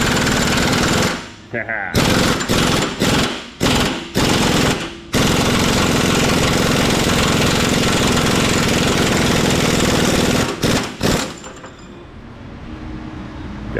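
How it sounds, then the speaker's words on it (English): A Kobalt pneumatic impact gun works on a crusty, rusted crankshaft pulley on a Nissan Frontier 4x4: several short, loud rattling bursts, then a long sustained hammering run that tapers off, with a brief laugh. "We'll use the pneumatic gun."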